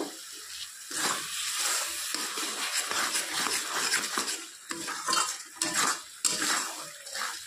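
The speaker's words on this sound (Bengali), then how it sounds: "পুরো গ্রেভিটাকে ভালো করে কষাতে হবে" Egg curry gravy with tomato paste and salt is stirred and fried in a pan, a continuous close sizzle with busy metallic spoon scraping and clinks against the pot throughout.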